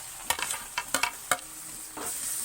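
Onions and garlic sautéing in a pan for tomato thokku: several quick scraping stir strokes over a low sizzle, then a steadier frying hiss, with no talking.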